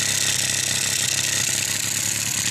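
A rat moped engine idling just after a cold start on choke, a loud, continuous buzzy putter with a fast, slightly uneven pulse, close up and alone.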